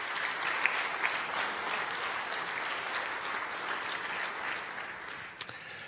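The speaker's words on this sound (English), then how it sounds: "So also big applause for the community helpers that are here." An audience at a Vue.js developer conference applauds community helpers, a dense, even wash of clapping sustained for several seconds with one sharper clap near the end.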